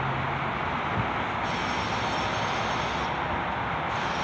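A steady low rumble and broad roar of a train car rolling past, continuous and fairly close, with no voices.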